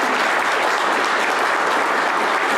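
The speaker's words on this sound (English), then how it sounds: "Yes, round of applause" Dense, steady applause from a convention audience at Monster Bash, loud and continuous throughout with no talk over it.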